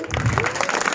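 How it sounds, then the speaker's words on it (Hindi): Audience clapping at a Sambalpuri poetry recitation, a dense, steady burst of applause from a crowd lasting about a second with no pauses. "जोरदार ताली दे दो"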